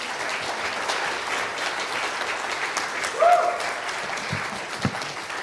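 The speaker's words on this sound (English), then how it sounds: "we want to go ahead and give a big, beautiful round of applause for Annalise Russell" A crowd at a Sunrise Movement climate gathering in Asheville gives steady, dense applause for a speaker, a continuous wash of clapping throughout with a brief louder swell partway through.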